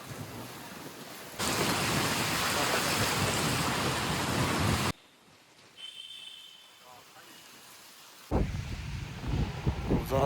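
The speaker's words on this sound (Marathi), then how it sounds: "जोरात पाऊस आलाय" Heavy rain pours down on a trek to Kalu waterfall, a loud steady roar that breaks off into a quieter stretch with faint voices, then returns at full force.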